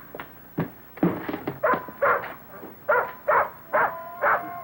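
A dog barks and whimpers indoors in a 1960 drama, a series of close, sharp yelps and whines spaced in an uneven rhythm, with no talk over them.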